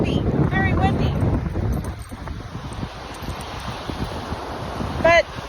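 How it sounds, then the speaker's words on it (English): Strong wind roars across the microphone at Trinidad State Beach, a heavy, continuous rush with surf mixed in, while a person talks over it and a dog yelps briefly near the end. "It's windy, very windy,"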